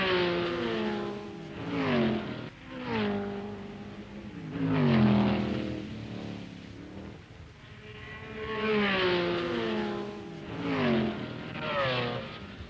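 1960s GT sports cars race past, including a Porsche 910 and a Lola T70. Several loud engine notes rise and fall in pitch as the cars sweep by one after another, with no talk.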